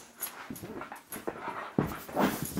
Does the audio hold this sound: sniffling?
no